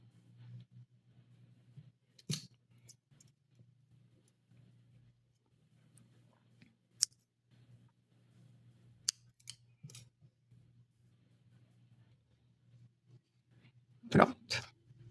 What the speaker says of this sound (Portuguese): Vou alongar um pouquinho e vou cortar, porque precisamos para costurar.